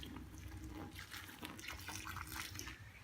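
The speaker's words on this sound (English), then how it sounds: "So what I'm going to do is take that boiling water and just pour a little bit on there to help it unfreeze." Boiling water poured from a kettle over frozen food to thaw it, a steady close splashing gush running the whole time, with no voices.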